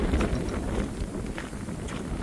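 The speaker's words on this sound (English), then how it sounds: "Very windy today." Strong wind buffets the microphone on a salt marsh nature trail, a steady, rough roar that fills the whole moment without any voices.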